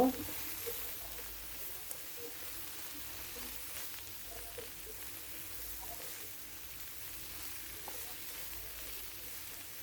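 Sliced okra with salt and spices fries in a pan, a soft continuous sizzle with occasional scraping and squishing as the mixture is stirred, fairly quiet and close, with no talking.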